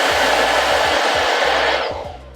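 A hair dryer runs steadily and loudly close by, a broad continuous airy rush with a low motor hum, tapering off slightly at the end as it seems to be switched off.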